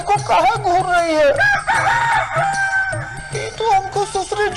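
A hen clucks and a rooster crows loudly and close by, overlapping in a busy stretch of harsh, rising calls with no talking.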